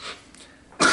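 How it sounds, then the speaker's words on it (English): A single person coughs sharply and clearly, with a softer breathy sound just before it. "Still got a cough."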